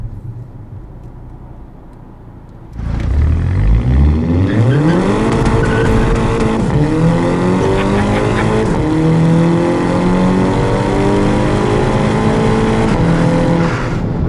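A 2011 VW Golf GTI MK6 with automatic transmission idles quietly, then launches hard, its engine note climbing through rising gear pulls with brief dips at each upshift, loud and close throughout.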